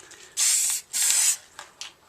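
Spray paint hisses onto a Harley air filter cover in two long, steady bursts, then two short puffs, close up and fairly loud with no talking.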